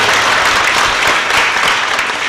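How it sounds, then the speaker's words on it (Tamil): A church congregation at a Christmas Mass claps for the choir, loud dense applause filling the space throughout, with no other sounds. "அவர்களுக்கும் கரவொலி எழுப்பி நம்முடைய வாழ்த்துக்களை பாராட்டுகிறோம்"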